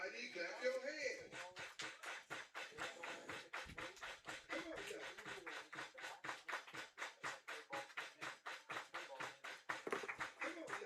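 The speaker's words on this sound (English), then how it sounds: "Everybody clap your hands." A ballpark crowd at a minor-league baseball game claps in a steady, rhythmic unison beat, many hands striking together at a quick even tempo for the full length, with broad crowd murmur underneath.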